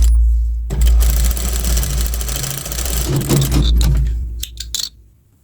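Industrial sewing machine stitching a Leona-style bra with a pressed side reinforcement, a loud steady motor whir running for several seconds, then slowing into short bursts before stopping.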